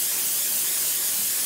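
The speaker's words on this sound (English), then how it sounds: "Just spray that, throttle body cleaner or brake clean, and bam, it's gone." Throttle body cleaner hisses out of an aerosol can in one steady, loud, unbroken spray from start to finish, with nothing else heard.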